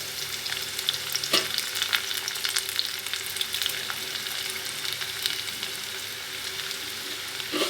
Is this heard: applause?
no